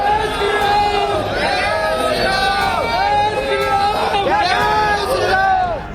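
Dense hubbub of a large crowd of devotees gathered before dawn outside the Ram Mandir temple in Ayodhya, many overlapping voices chattering and calling out continuously, loud and close throughout.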